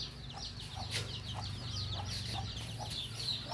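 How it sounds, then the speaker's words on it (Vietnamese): Chickens at a poultry farm on Phu Quoc island cluck in short scattered bursts over a steady, busy farmyard background, with a few louder calls standing out near the close. "Mình sẽ quay cho quý vị các bạn xem một khu chăn nuôi gà trên đảo Phú Quốc"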